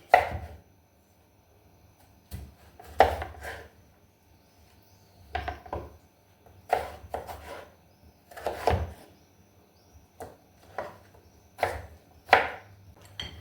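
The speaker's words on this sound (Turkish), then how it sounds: "Patatesi de yine çok iri olmayacak şekilde doğruyorum." Potatoes being diced into small pieces with a knife on a cutting board while preparing an İzmir-style meat and artichoke dish, roughly a dozen distinct chopping bursts in an uneven rhythm, close and clear with quiet gaps between.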